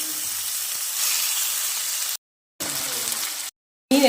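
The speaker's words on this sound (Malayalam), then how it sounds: "മീനെല്ലാം നല്ല ഫ്രൈ ആയിട്ടുണ്ട്" Fish frying in coconut oil in a pan gives a loud, close, steady sizzle with a bright hiss. It cuts out abruptly twice.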